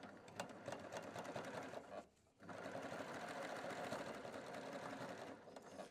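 A sewing machine runs steadily, stitching a chain stitch along the edge of a makeup pouch, with one brief pause partway through before the motor resumes its even whirr.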